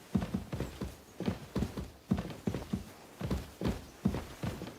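Horse hooves clip-clop at a steady walking rhythm in Kingdom Come: Deliverance II, each footfall a close, distinct knock in repeating pairs, with no talk over them.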